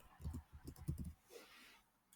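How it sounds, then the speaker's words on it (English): A name is typed on a computer keyboard, a quick run of soft close key clicks for about a second, then a brief quiet stretch with faint background noise. "So I can go ahead and do that and I'll type my name."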